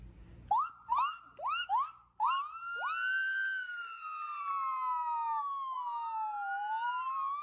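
Voices imitate two ambulances driving by a house, starting with rapid rising whoops and moving into long, wavering siren wails that glide up and down, loud and close, with no other sounds.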